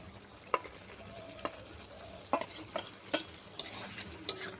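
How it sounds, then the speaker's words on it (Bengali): Fried bitter gourd with potatoes being stirred in a pan, a spatula scraping and knocking in irregular sharp strokes over a soft continuous sizzle, close and fairly quiet. "এই উচ্ছেটা এইভাবে নাড়তে থাকবো যাতে আলুর সাথে উচ্ছেটা সিদ্ধ হয়ে যায়"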